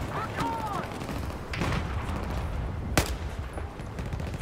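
Gunfire in the Battlefield 4 naval campaign, with a few scattered shots and one sharp crack standing out over a dense, noisy battle backdrop, with talk going on underneath.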